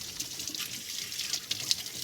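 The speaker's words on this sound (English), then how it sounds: "we're just gonna rinse them in some fresh water" Pennies are rinsed under a running sink tap, a close steady splashing stream with small clinks and knocks as the coins are rubbed together under the water.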